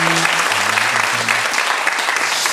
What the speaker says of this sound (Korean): 박수로 우리 한번 안녕하도록 하겠습니다.